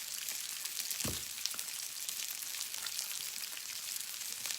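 Salmon fillets sizzle and spit in a hot pan after lemon juice goes in, giving a bright crackling hiss that runs steadily throughout with a brief low clunk near the start.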